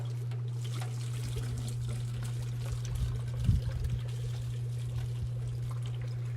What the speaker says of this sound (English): I'm gonna go ahead and pour a little more water in here.